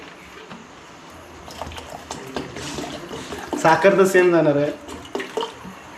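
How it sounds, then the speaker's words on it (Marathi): Water splashes and trickles steadily as it is poured into a tea pot, with a person talking over it. "मी जरा एक्स्ट्रा पाणी टाकतो चहामध्ये"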